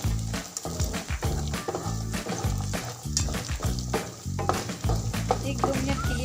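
Carrots and peas frying in a pan, a steady close sizzle with repeated scraping and stirring clatter throughout, alongside a faint musical background.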